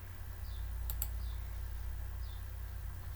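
A few sharp computer mouse clicks, a close double click in the middle and faint lighter clicks, set over a steady low hum from the computer while CAD software is in use.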